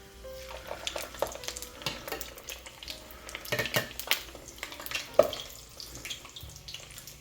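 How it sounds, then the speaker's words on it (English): Braised shrimp sauce boiling hard in a pan, a steady close bubbling and sizzling hiss with scattered clinks and stirring scrapes throughout, no voices. "that seems like it's boiling a bit too aggressively"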